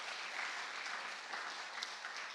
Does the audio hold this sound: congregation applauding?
yes